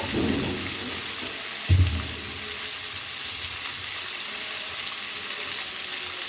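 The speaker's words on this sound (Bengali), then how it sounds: "এই ফুলকপিগুলো দিলাম, একটা রান্না আলু ছিল তাই দিলাম।" Cauliflower florets and a cooked potato fry in a hot pan, giving a continuous close sizzle, with one soft thud early on as the vegetables go in, then a steady crackle.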